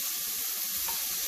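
Cauliflower fried rice with peas, carrots and egg frying in a pan gives a steady, even sizzle with faint crackles, continuous and unbroken throughout.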